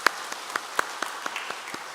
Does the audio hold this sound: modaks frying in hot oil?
no